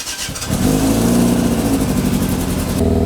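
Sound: four-cylinder engine revving after warming up

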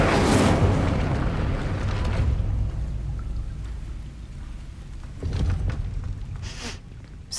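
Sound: Incendio fire spell in video game Hogwarts Legacy

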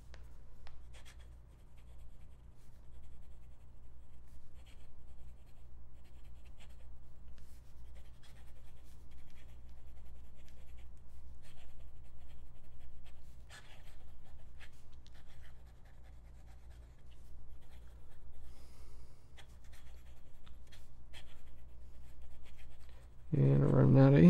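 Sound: writing with Kakimori nib and Iroshizuku Yama Guri fountain pen ink

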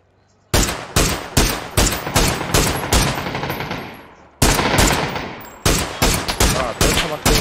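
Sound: gunfire from a Mini rifle in a video game

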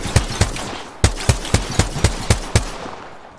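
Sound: gunfire in video game Apex Legends

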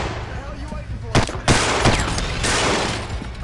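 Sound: shotgun gunfire in SWAT 4 video game

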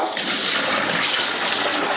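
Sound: water being poured into cooking pot

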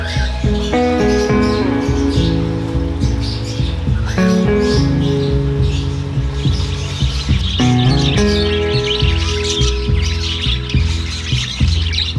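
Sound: parakeet chicks chirping

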